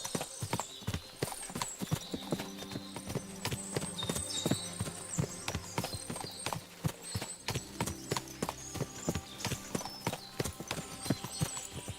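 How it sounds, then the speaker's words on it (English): Many horse hooves clip-clopping in a steady, overlapping rhythm, fairly close, with a brief whinny among them and no talking, in the video game Kingdom Come: Deliverance II. "What a lot of horses!"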